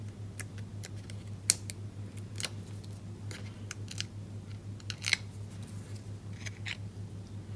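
Scissors snipping card ends into a banner shape for stamped note cards, a series of sharp close clicks and slices over a steady low hum, with no talking.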